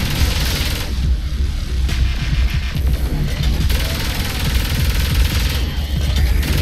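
Dense, continuous gunfire and explosions from the video game Saints Row IV, a loud chaotic wall of rattling shots and crashes with no pauses.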